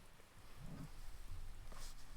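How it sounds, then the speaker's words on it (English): Steady rain in the video game Cinderella Phenomenon hisses continuously with a soft, even wash of drops and no voices. "I love the rain."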